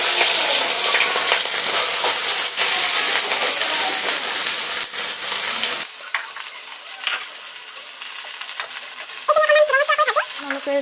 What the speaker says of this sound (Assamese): এতিয়া মই পিঁয়াজখিনি ভাজি দিম।